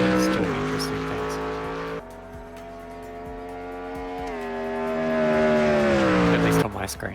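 A Mercedes race car in Automobilista 2, heard from outside, runs with a steady, loud engine note that dips, then builds again in pitch and volume before abruptly cutting off near the end, with other cars around.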